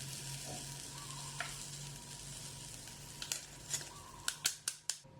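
A breaded katsu cutlet fries in a pan with a soft, steady sizzle, joined near the end by a few sharp clicks and taps, quiet and close.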